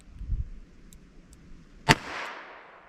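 A single gunshot from a .32 S&W Long revolver round with a 100 grain bullet, one sharp crack followed by a short decaying tail against faint background noise.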